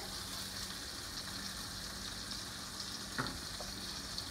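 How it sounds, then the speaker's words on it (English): Brussels sprouts sizzle in hot oil in a frying pan for a warm roasted salad. The crackle is steady and close, with a brief clatter as the sprouts are flipped. "You hear that sizzle."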